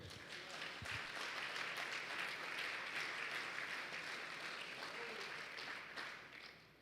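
A congregation at a church service gives sustained applause, a dense wash of clapping held evenly and fading only at the very end, with faint voices beneath it.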